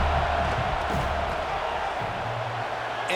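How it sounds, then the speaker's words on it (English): Dense, steady stadium crowd roar from a college football game in EA College Football 26, loud and continuous as a field goal attempt is set up, with faint commentary underneath. "This crowd trying to do its part to get inside the kicker's head."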